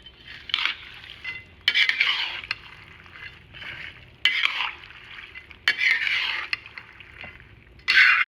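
Spiced Indian dish being stirred and mixed in a pan, a spoon scraping and clinking against the metal in several bursts of steady scraping strokes separated by brief pauses, close and moderately loud.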